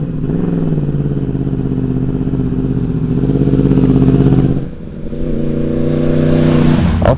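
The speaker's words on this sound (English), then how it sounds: "This thing sounds absolutely magnificent with the exhaust and stuff." A loud new-generation Yamaha R1 sport motorcycle with an aftermarket exhaust idles and revs steadily, deep and throaty, dipping briefly before building back up.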